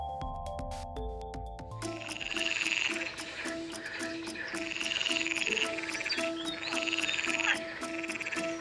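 A frog croaks in repeated pulsing bursts, clear and fairly close. A brief tonal sound comes first, then the croaking carries on alone.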